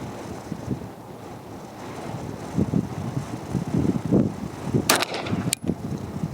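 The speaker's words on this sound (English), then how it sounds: "that's when the wind wants to come out and play" Gusty wind buffeting the microphone at an outdoor shooting range, a steady rumbling roar with stronger swells, loud and close, plus a couple of brief sharp knocks near the end and no speech.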